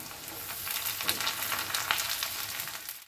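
Drumstick stalks and onion fry in a pan for a Bengali chorchori, a steady close sizzle with crackling pops and occasional stirring, no voices.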